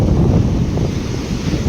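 Strong morning sea waves surge onto the shore in a low, continuous rumble, mixed with heavy wind buffeting the microphone. The roar stays loud and steady with no voices.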